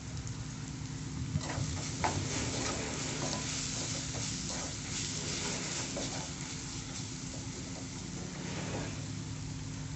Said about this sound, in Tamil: இந்த எண்ணெயிலேயே நல்லா பச்சை வாசனை போகிற அளவுக்கு வதக்கிக்கோங்க